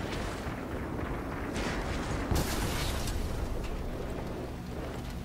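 An artillery shot in the tank video game World of Tanks, heard as a dense, continuous mechanical rumble with a sharper burst near the middle and no talking.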